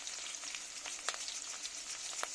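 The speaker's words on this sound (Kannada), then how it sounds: "ಈಗ ನಾನು ಸ್ವಲ್ಪ ಜೀರಿಗೆ ಹಾಕ್ತೀನಿ." Cumin seeds sizzle steadily in hot oil with onion in a pan, a dense continuous frying hiss with small crackling pops, close and loud throughout with no talking.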